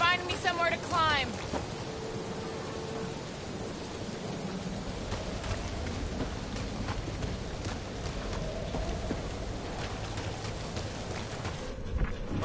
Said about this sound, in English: Perhaps the storm will have abated.